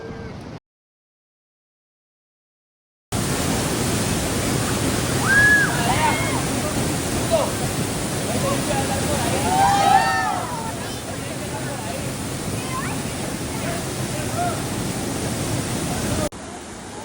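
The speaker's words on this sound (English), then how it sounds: "probably like 10-foot waves crashing in right now" Large ocean surf, roughly ten-foot waves, crashes onto a Costa Rica beach as a steady, loud roar of broadband water noise. Faint birdlike chirps rise briefly partway through. The sound cuts out near the start, then returns.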